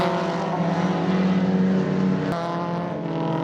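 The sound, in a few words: Z-Tech powered Ford Mark II Escort race car engine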